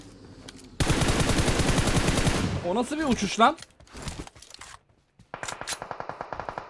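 Rapid bursts of automatic gunfire from the mobile battle-royale game PUBG Mobile crackle loudly, one long sustained volley followed by shorter rattling strings, with someone talking between and over the shots.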